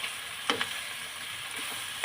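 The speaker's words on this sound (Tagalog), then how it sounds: "parang nagpiprito-prito po yung ating karne sa mantika at toyo" Beef for bistek frying in oil and soy sauce, a continuous close sizzle and crackle with a few short louder spits and stirring scrapes.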